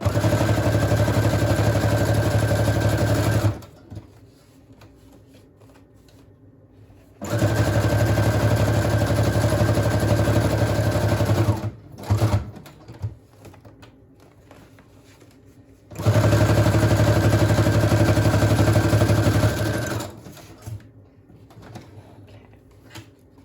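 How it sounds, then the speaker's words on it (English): A sewing machine stitches a side pocket onto a Tim Holtz journal page, running in three long steady bursts of motor whir and needle chatter, with quiet pauses and brief clicks in between. "So I'm going to sew that on 3 of the sides at least."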